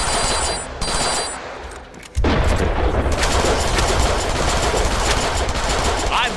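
Rapid machine-gun fire bursts loud and dense in the Deadpool video game, after a short stretch of quieter background, continuing as sustained automatic gunfire to the end.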